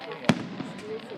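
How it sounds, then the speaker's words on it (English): A single firework burst cracks sharply near the start against a quiet background, followed by a fainter pop a moment later. "I hope you enjoyed all of the pretty fireworks."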